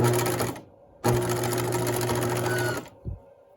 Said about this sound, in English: So I'm in position to edge stitch this inside edge of my facing.